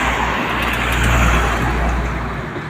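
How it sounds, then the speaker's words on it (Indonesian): A loaded palm oil truck rumbles past on a road, a steady loud engine and tyre roar that swells near the middle and eases off as it moves away, with no talk over it. "Ada truk sawit lur."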